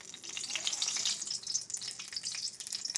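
Cumin seeds, bay leaf and dry red chilli tempering sizzling in leftover fish-frying oil, a steady bright crackle and hiss close up, with no talk.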